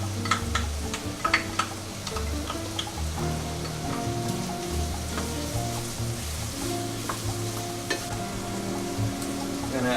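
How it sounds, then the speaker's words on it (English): Garlic and onions sizzle steadily in a frying pan, a continuous close crackle with occasional stirring taps, no talking. "now we add the garlic"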